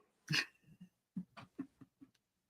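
A puppy at a live sale gives a short series of soft whimpers, snuffles and breathy yelps, one louder cry followed by several quieter, uneven bursts, close by in a quiet room.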